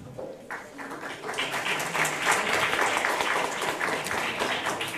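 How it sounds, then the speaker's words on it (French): An audience at a round-table conference on land-use policy greets panel speakers with applause, the clapping starting quietly and swelling into a steady, moderately loud wash after a brief lull. "je vous demande d'applaudir"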